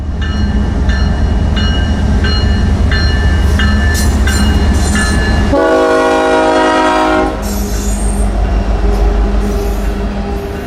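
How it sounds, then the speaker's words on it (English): A loud BNSF unit freight train of solid grain cars rumbles past with steady rolling clatter from its cars, and a horn blares partway through. "This is typical of the unit trains out here. Solid grain cars"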